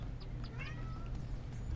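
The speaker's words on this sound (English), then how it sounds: "Ooh, cat." A cat in the video game Lumberjack's Dynasty gives a few short, fairly close meows over a low, steady background rumble.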